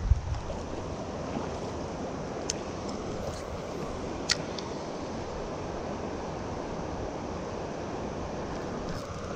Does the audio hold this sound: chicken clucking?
no